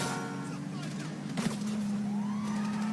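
Police siren from a pursuing cop car in the GTA Online video game, a steady sustained wail that runs through nearly the whole stretch under game noise, with brief voices.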